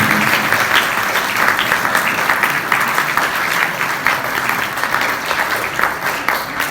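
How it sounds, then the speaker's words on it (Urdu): Loud, dense applause from an audience at a Catholic Bible study gathering, welcoming Zeeshan Pardes as a garland is placed, continuing steadily without a break. "جب تک مالا پہنائی نہ جائے آپ کی تالیاں رکنی نہیں چاہیے گی، زوردار تالیاں"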